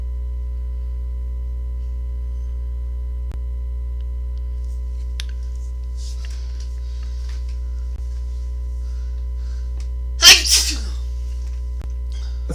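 A single sharp human sneeze bursts out near the end, close and loud, above a steady electrical hum, with faint scattered room noises before it.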